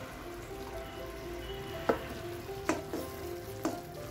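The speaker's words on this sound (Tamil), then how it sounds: "நல்லா மிதமான தீயில வேகுது கால் கப்புல மீதி உள்ள நெய்யை போட்டுடலாம்" Thiruvathirai kali cooking in ghee over a medium flame gives a steady low sizzle and bubbling, with a few sharp spatters or stirring knocks standing out near the end.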